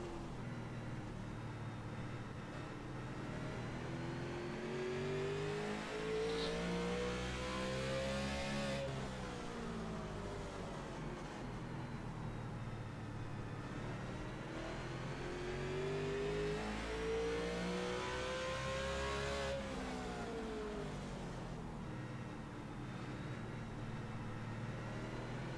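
Race car engine on a lap of a short-track race, a loud continuous drone rising through the straights and dropping into two corners, with steady onboard rumble and no talk.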